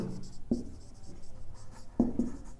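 A marker or chalk scratches across a board in short strokes with a few sharp taps, up close, as physics equations on electrostatic potential energy are written out.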